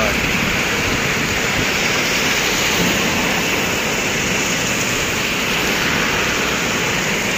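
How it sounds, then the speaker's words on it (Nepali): Heavy rain pouring down during a journey in Malaysia, a loud, dense and unbroken roaring wash of water that fills the whole stretch without letting up. "यस्तो पानी परेको।"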